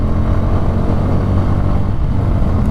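Bajaj Pulsar N150 motorcycle, a 145 kg bike, being ridden, its engine a steady, loud low drone with road and wind rumble throughout and no speech.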